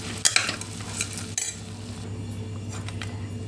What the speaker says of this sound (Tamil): இப்போ நல்லா கிண்டி விட்டுக்கலாம்.